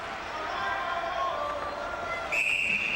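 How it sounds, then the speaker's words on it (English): A referee's shrill whistle blows near the end at a 1999 NCAA ice hockey game between Northern Michigan and Boston College, a single sustained blast over crowd murmur and arena noise. "And once again, a whistle and a stop"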